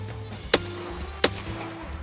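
Two sharp gunshots ring out in the video game Escape from Tarkov, spaced about 0.7 seconds apart and fairly close. Each crack stands above a steady low ambient hum.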